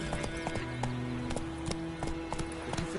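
Roach, the horse in The Witcher 3, trots with a quick, regular clip-clop of hooves over a sustained musical background, each step crisp and close.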